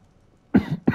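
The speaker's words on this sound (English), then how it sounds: "sorry for the cough" Two sharp coughs close to the microphone, the first harsher and longer, the second a short follow-up, after a near-silent pause.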